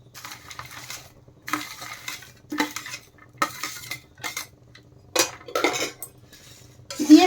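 A spoon clinks and scrapes against a pan in bursts of irregular stirring strokes while masala muri is mixed with fried chickpeas, peanuts and curry leaves, close and fairly loud, with no voices.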